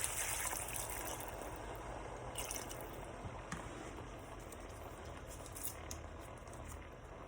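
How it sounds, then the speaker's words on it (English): Water poured into a pot of smothered potatoes, a soft steady trickle and light splashing, quiet and close throughout with no talking. "I'm gonna add a cup of water."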